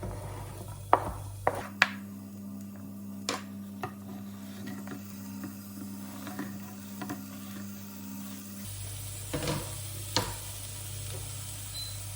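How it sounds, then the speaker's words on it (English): Low, steady frying sizzle of garlic, onion and pepper in a pan on low heat, with occasional clinks and scrapes of utensils, fairly quiet and close. "You may hear them starting to sizzle."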